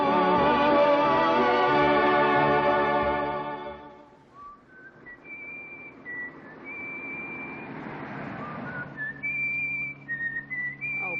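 A person whistles a melodic tune, steady at first, then thinner and broken into short notes over a low background rumble.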